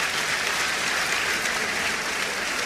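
Steady audience applause at a founding party assembly, approving a proposed membership list, with a crowd clapping in an even, continuous roar at moderate distance.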